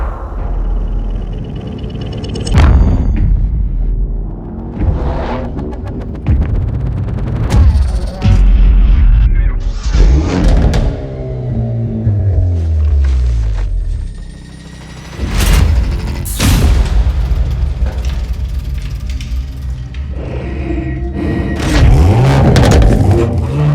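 A Hyundai Elantra N's engine revs in rising and falling sweeps, mixed with heavy booms, impacts and dramatic effects. The sound is loud and busy throughout, with a brief dip near the middle.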